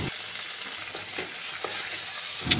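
Potatoes sauté with spices in a pan for a light fish curry, giving a soft steady sizzle with faint scraping stirs and a brief scrape at the end.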